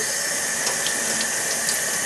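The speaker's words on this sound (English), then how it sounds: "Turn on the water, cold," Cold water runs from a kitchen tap, a steady, close hiss and splash with no break while jalapeño peppers are rinsed.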